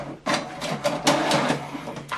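An HP DeskJet 2710e inkjet printer runs off a wireless information page, with a rhythmic whirring and mechanical clatter of the carriage and feed moving back and forth in quick pulses, loud and close.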